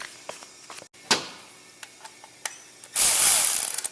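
A hand ratchet with an extension works bolts loose on a snowblower, giving a series of sharp clicking pawl ticks at close range, followed by a louder, harsher metallic burst at the end.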